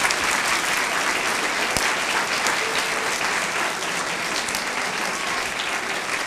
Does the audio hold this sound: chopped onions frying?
no